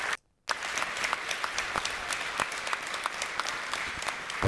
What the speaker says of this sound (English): Applause break, applause break.